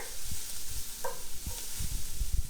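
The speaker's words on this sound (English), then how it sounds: "we'll give our onions a stir and then we'll incorporate our garlic and tomatoes" Onions, garlic and sun-dried tomatoes are stirred in a hot frying pan, with a soft steady sizzle and low, uneven scraping knocks from the utensil against the pan, close up and with no talking.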